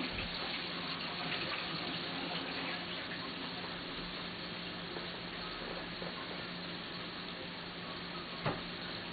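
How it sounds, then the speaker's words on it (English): Boiled potatoes are poured off into a kitchen sink, giving a steady, faint rush of running water with a soft splashing hiss throughout and one brief knock near the end. "we're going to drain our potatoes out"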